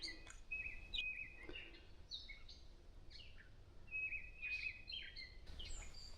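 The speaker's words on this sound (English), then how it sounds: "it's just birds singing everywhere" Several birds sing and chirp in a Pine Barrens forest along the Mullica River, with repeated clear whistled calls and trills from different directions over a steady, faint natural background, no voices.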